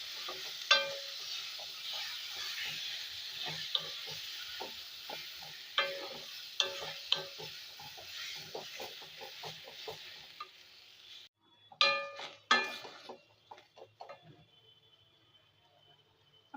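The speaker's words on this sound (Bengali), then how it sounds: "এগুলো একটু ভাজা ভাজা হতেই এর মধ্যে আমি এই পেস্টটাকে দিয়ে দিচ্ছি।" A spice paste sizzles steadily as it is fried with vegetables, a spoon scraping and stirring through the hiss in irregular strokes, the sizzle cutting out briefly before a few louder clanks.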